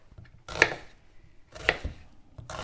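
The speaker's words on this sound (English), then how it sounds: "And then we cut the red onion exactly the same in big chunks" A knife cuts a red onion into big chunks, giving three crisp, separate chops on a board, close and clear with quiet pauses between them.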